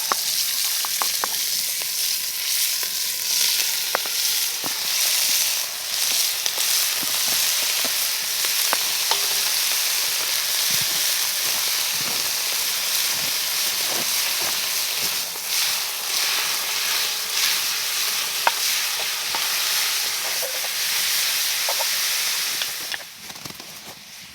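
Ground meat browns in a pan over an outdoor fire in the woods while making chili, giving a steady, loud broadband sizzle with scattered crackles and pops throughout, no talking.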